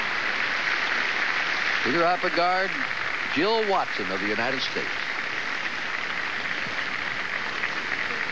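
Arena crowd at a figure skating exhibition applauding steadily, a broad wash of clapping that runs throughout under an announcer's voice.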